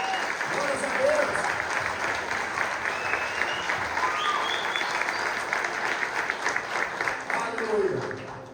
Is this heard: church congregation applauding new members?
yes